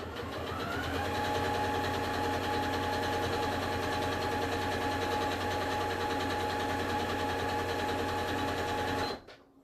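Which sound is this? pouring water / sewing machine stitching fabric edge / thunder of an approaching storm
sewing machine stitching fabric edge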